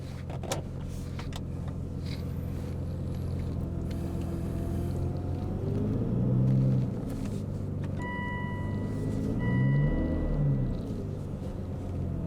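Aston Martin V12 engine giving a deep, steady rumble from inside the car, swelling twice into louder low surges before settling back, with no talking.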